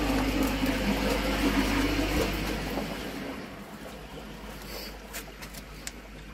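Water drains from an opened valve in a koi pond greenhouse system, a broad steady gushing rush with low rumble that gradually eases and thins toward the end, with faint knocks.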